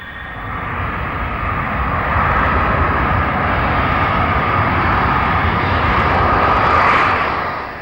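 Engines of a C-141 military transport aircraft give a loud, continuous, broadband roar that swells gently and holds steady throughout, with no voices.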